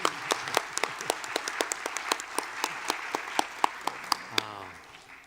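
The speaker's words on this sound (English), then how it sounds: "One more round of applause, please." An audience applauds with scattered, sharp claps of moderate density, fading toward the end as a voice begins to speak.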